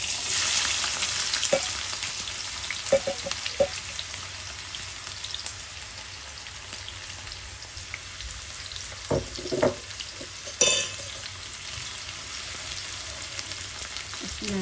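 Onions fry in oil with cumin for a bitter gourd baji, a soft steady sizzle under occasional stirring clicks and scrapes, fairly quiet and with no talking.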